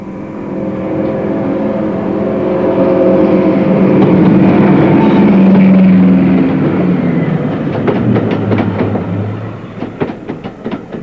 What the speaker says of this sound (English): They were the only production class of diesel electric locomotive built with 2 engine and generator